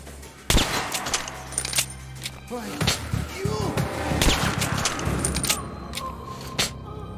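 Single-shot rifle firing in the Metro Last Light Redux video game: several separate sharp gunshot cracks spaced a second or so apart, loud and close, mixed with game effects and a voice talking.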